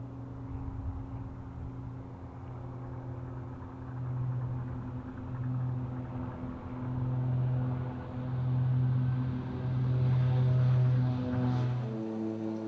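A King Air twin turboprop runs on the runway during its takeoff roll, a steady droning engine tone that swells and surges in waves, getting louder toward the end, with no speech.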